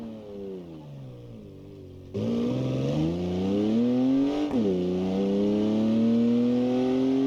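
A modded car engine in a driving video game modelled on a real-life car revs steadily alone, pitch climbing smoothly after a sudden jump in loudness, then dipping briefly and climbing again.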